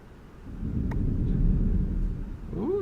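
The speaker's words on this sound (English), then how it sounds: "Ooh, thunder." Thunder rolls in the video game Minecraft, a loud low rumble swelling and fading over a couple of seconds, with a voice briefly at the end.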